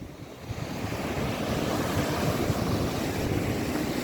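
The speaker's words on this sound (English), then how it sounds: "There's still some wind blowing, but not as bad as earlier." Steady wind gusts by the sea with surf rolling underneath, a broad continuous roar that holds fairly loud from start to finish with no voices.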